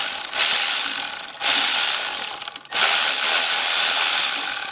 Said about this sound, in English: just taking out the bolts